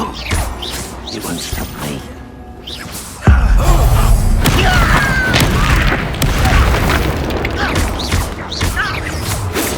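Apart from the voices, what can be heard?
Bombarda exploding spell in video game Hogwarts Legacy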